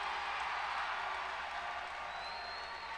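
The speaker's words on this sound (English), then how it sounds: "listen to the crowd, man" A fight crowd at a Cage Wars mixed martial arts event applauds and cheers after a three-round bout, a steady dense wash of clapping and crowd noise with no talk.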